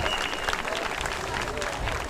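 Spectators at a varsity boys soccer game clap for an injured player, Carson Tan, as he gets up, a steady mid-level ripple of applause from the stands heard beneath a commentator's voice.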